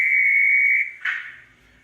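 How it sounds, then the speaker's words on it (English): A guard's whistle from the Accurascale Pannier Tank model locomotive's sound decoder: one loud, steady, shrill blast of almost a second, then a shorter breathy burst that fades away, with no voices. "16 is the guard's whistle."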